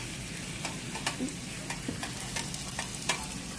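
Peppers and onions cooking in a pan for chicken Alfredo, giving a soft, steady sizzle with occasional scraping stirs and clicks, faint and close, with no one talking.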